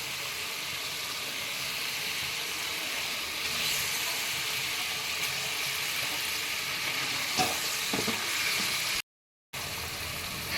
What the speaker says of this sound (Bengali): দেখো এবারে গ্রেভিটা ফুটে গেছে, এবার আমি মাছগুলো দিয়ে দিচ্ছি।